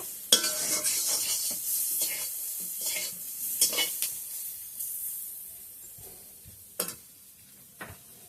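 Eggplant fries in a pan with a steady broadband sizzle, broken by several sharp scraping stirs and utensil knocks. The sizzle fades a little toward the end, and no one speaks.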